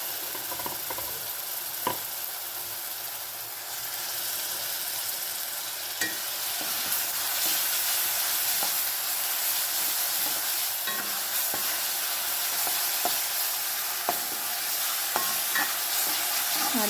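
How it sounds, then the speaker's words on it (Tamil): Ginger garlic paste sautés with small onions for a chicken gravy, a loud dense crackling sizzle that swells midway, with sparse light stirring taps and no speech. "நல்லா இஞ்சி பூண்டோட பச்சை வாசனை போகிற அளவுக்கு நல்லா வதக்கிக்குவோம்."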